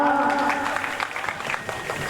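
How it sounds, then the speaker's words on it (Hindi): An audience at a religious storytelling gathering claps, a dense burst of applause that thins into scattered claps over about two seconds, with a voice faintly audible underneath. "तालियां बजाओ।"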